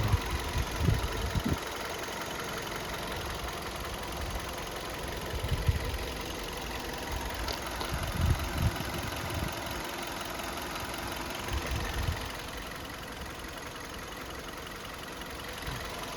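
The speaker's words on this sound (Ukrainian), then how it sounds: "Двигун працює ідеально." A 2013 Hyundai Elantra 1.6 DOHC 16V petrol engine idles steadily throughout, a continuous low hum with faint periodic knocks and no voices.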